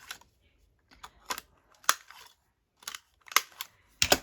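Scissors snipping the corners off paper for a Christmas junk journal, in short sharp cuts that come in small clusters with quiet gaps between them, close and fairly clear.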